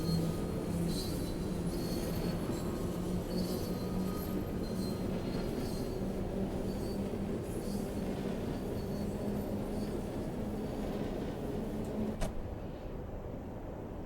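A 1938 Tube Stock train on the Bakerloo Line in Train Sim World 2 rumbles steadily with a humming motor and rattling wheels, loud and continuous, easing slightly near the end.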